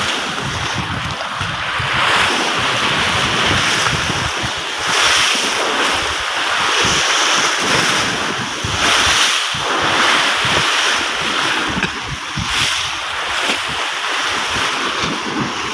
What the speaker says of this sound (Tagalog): Ay, grabe naman ang lakas ng alon.